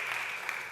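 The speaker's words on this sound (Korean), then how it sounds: "환영의 박수 치겠습니다" Church congregation gives welcoming applause for a newcomer, a short, steady, dense wash of clapping with no break and no speech over it.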